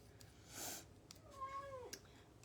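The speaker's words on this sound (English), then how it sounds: "my kitty is trying to talk to y'all" A pet cat meows indoors in a craft room, one drawn-out, rising-then-falling call with a softer chirp before it, fairly close but quiet and alone over faint room noise.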